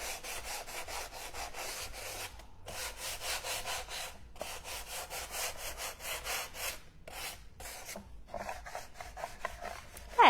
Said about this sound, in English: And change direction, and I'm using a 100 grit piece of sandpaper.